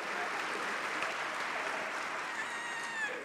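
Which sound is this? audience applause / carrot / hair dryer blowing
audience applause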